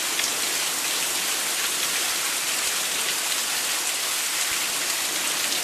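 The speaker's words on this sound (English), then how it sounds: "A little bit of rain." Rain falling steadily during a nighttime thunderstorm with tornado warnings, a dense, even, broadband hiss of drops that stays constant and fairly loud throughout, with no voices.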